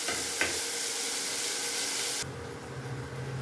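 Tomato tossed into onions frying in a pan for pumpkin sambar, a steady loud sizzle with stirring that drops to a softer, lower hiss partway through.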